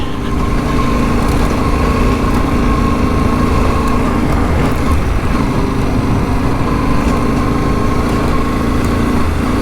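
A motorbike engine roars steadily and loudly up close while riding through soft sand on improved tires, a continuous droning whine with no breaks and no talking.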